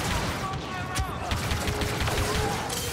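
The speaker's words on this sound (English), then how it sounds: "They're shooting the mess out of me." Dense gunfire rattles through a Star Wars Battlefront 2 firefight, with steady overlapping shots and blaster-like pops under a player's voice.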